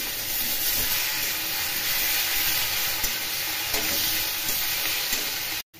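Cumin, coriander, chili and tomato paste fry in hot oil for a fish head curry, a loud steady sizzle and hiss with faint stirring scrapes, close up and continuous before cutting off abruptly.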